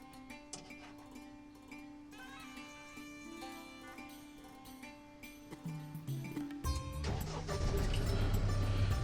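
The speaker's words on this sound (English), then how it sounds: "see if we can get the Roxor started" A Roxor off-road vehicle's engine cranks and fires in the last few seconds, settling into a loud, steady idle after a quieter stretch of mixed tonal sound.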